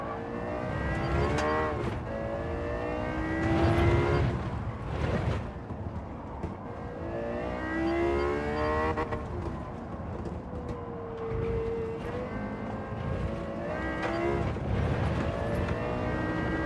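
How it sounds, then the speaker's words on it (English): A Chevrolet Corvette C8 race car in Gran Turismo 7 at Catalunya, its engine revving hard in repeated rising sweeps with gear changes as it accelerates, loud and continuous with no talk. "Oh, he's in a Corvette, the C8."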